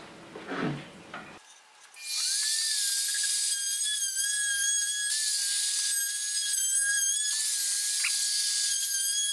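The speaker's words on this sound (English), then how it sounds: "take the router and with a 1/4 inch round over bit, round these corners off" A brief rustle, then a high-pitched power router with a 1/4 inch round-over bit whines steadily, with a sustained hissing cut as it rounds wood corners; loud and close.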